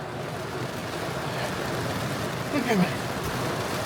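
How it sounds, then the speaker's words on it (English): Heavy rain pours down in a steady, close hiss, with a person speaking briefly partway through. "Pretty nice to get out in this rain."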